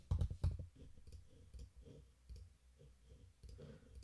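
Quiet computer mouse clicks, a few soft taps spaced irregularly, close and faint against a low background.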